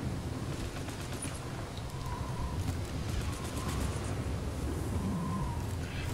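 Gunfire in the online shooter Firefall, a dense continuous barrage of rapid shots and blasts under a constant roar of game noise, with no speech.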